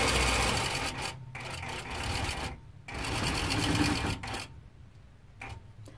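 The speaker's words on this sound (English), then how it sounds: "I'll move the machine back up to where we have left off with the stitching" A Nolting Pro-Series longarm quilting machine stitches binding onto a quilt, running in close, rapid mechanical bursts broken by short pauses.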